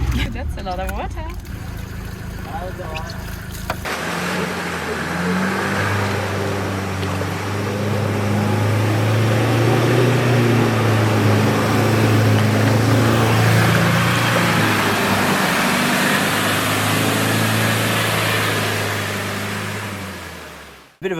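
A car engine drones steadily while water rushes and churns loudly around the vehicle as it fords a deep river for a long stretch, the noise swelling then easing off.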